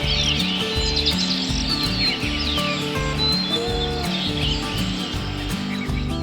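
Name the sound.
birds chirping and singing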